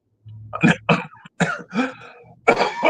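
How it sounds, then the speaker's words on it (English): Several harsh coughs from a man with a bad cough in close succession, loud and near, with brief throat-clearing sounds between bursts and no speech. "I came back from Kenya with a horrible cough, and it's not a cold."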